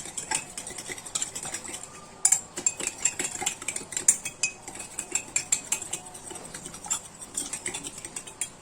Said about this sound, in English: Stir the tea until it turns brown.